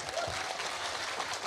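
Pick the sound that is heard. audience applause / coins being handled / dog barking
audience applause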